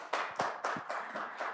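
At an announcement, a few hands clap in a sparse, uneven rhythm of about six distinct claps, close and fairly clear rather than a full crowd ovation.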